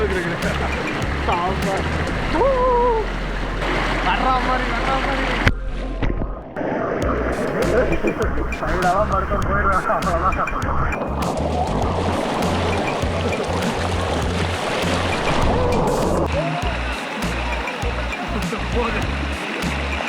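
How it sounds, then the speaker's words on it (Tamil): Forceful water rushes and crashes at Kumbakkarai waterfall in Theni, a loud, unbroken roar that fills the scene while people talk and shout over it nearby. "தண்ணி என் காலை தள்ளி தள்ளி விடுற மாதிரி வருது"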